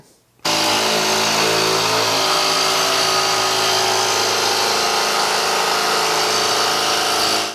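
A Milwaukee barrel grip jigsaw cutting with its blower on starts abruptly after a brief quiet moment. It then runs as a loud, steady, buzzing whine, close and continuous to the end, with no talking.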